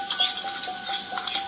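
Yogurt stirred into hot oil with ground cumin and coriander in a pan for a soybean and potato curry, a soft steady sizzle with faint scraping of a spoon, no talking.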